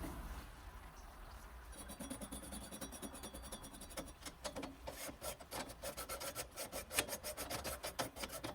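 Burner holes on a propane gas grill's flame cross member being cleaned with a tool, producing faint, rapid scraping and rasping strokes that grow busier and more rhythmic partway through, with no talking.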